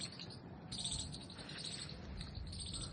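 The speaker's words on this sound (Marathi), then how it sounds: "पक्ष्यांचा किलबिलाट आहे।" Birds chirp on a green hillside by a temple at Himayat Bagh, a steady bright twittering layered with insect-like trilling that lifts slightly after the first moment and carries on throughout, with no talking.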